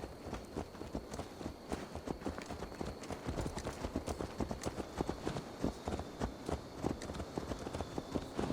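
Horse hooves clip-clop steadily at a walking pace in the Assassin's Creed Valhalla video game, a continuous rhythmic stream of soft thuds over a dense ambient game background.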